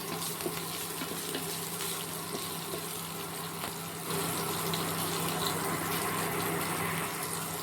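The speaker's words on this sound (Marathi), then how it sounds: "मिरची पण तडकली आहे।" Green chillies crackle and sizzle in hot oil with a pinch of salt, a steady close frying hiss that runs without pause, with no talk over it.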